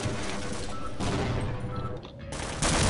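Gunfire in Half-Life during the Surface Tension chapter: a dense, loud wash of shots and blasts runs throughout, dipping briefly before a final loud burst, with no talking.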